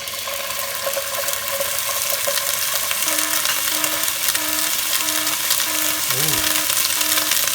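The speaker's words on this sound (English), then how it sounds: "to this I'm going to add my ginger garlic paste" Ginger garlic paste hits a hot pan for an aloo mutter base, giving a steady broadband sizzle and fry that runs throughout, with a brief exclamation from a voice.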